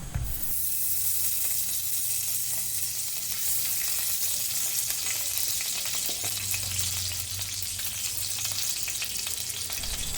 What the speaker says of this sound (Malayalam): നമുക്ക് ഇതിലേക്ക് കുറച്ച് നെയ്യിട്ട് കൊടുക്കാം.